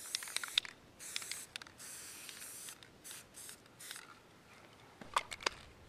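A deer skull is sprayed with spray paint from an aerosol can in a series of short hissing bursts of uneven length, some with faint rattling clicks, and quiet pauses between them, heard close up without talk.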